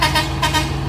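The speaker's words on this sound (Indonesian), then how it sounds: "truk yang gagal nanjak tadi mundur ya" Heavy truck engine idling and labouring at a steep hill climb, a low steady diesel rumble with brief hissing bursts like air brakes, close and continuous for about a second.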